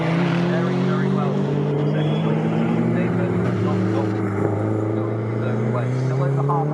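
Race cars including a Toyota MR2 at full throttle on the Snetterton circuit, a dense continuous engine roar with shifting pitch as cars pass close, heard beneath steady commentary.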